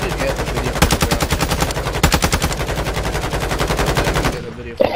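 Hemlock rifle firing in the Warzone video game: fast, loud, evenly spaced bursts of automatic gunfire, close up, with a short pause partway, then cutting off near the end into quieter game ambience.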